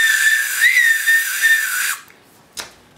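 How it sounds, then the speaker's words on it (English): A person whistles one sustained, wavering tone for about two seconds, loud and close, then stops, followed by a brief faint breathy whistle. "I can just whistle"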